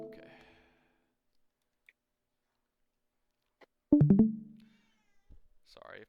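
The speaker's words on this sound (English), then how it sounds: "Sorry if my cat is very loud." A house cat gives a short, loud meow close to the microphone, framed by brief faint indoor noises in an otherwise quiet room.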